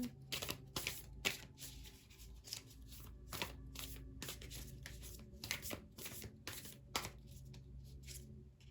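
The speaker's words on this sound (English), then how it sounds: "from the Healing Energy Oracle deck, I'm going to pull Leo a card" Cards from a Healing Energy Oracle deck being shuffled and drawn, a quiet, close series of quick papery riffles and taps in uneven bursts.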